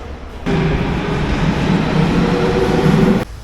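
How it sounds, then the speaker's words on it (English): A metro train rides into central Athens, with a steady loud rumble of wheels and carriage noise that starts abruptly and holds evenly for a few seconds before cutting off. "So I just took the metro."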